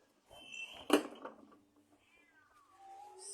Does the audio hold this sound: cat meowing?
yes